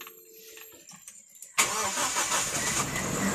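A car engine cranks and catches partway through, jumping from near quiet to a loud, steady idle that continues close by, on a car with low idle timing when the air conditioning is on.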